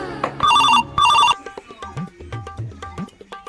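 A telephone rings in two short electronic bursts, loud and close, followed by quieter background sounds.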